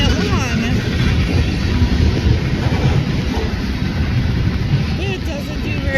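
BNSF freight trains, one with three engines and one with five, passing in the rain: a loud, continuous low rumble and rolling clatter of railcars close by, with a voice talking over it.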